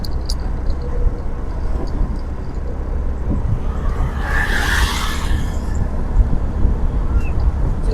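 A motorcycle passes by outdoors, its engine noise swelling to a peak at mid-clip and then fading, over a constant rumble of background traffic.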